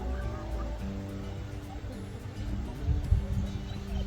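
A flock of 21 chickens being let out for the first time clucks and murmurs in a steady, close chorus of low calls, with a louder burst of activity near the end.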